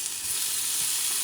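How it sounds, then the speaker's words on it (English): Vegetables and meat sauté in a pan for burger toppings, filling a brief moment with an even, close, hissing sizzle and no voices. "You're going to saute these veggies"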